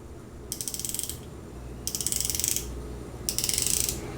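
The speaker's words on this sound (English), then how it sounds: "So I believe this is a 120 click bezel." Bezel on a Casio MDV-106 Duro dive watch, a 120-click unidirectional type, rotated in three quick bursts of fine ratcheting clicks separated by short pauses, close and fairly quiet.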